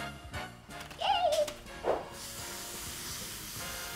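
Short breathy hisses of spray puff out of a blow-through marker spray pen over a stencil in a few quick bursts, quiet and close, followed by a soft lingering hiss.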